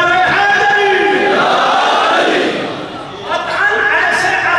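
A crowd at a Muharram majlis loudly chants the Nara-e-Haidari slogan, a sustained massed roar of many voices that dips briefly and then surges again.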